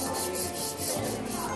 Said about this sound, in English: Sanding, let's see you in action.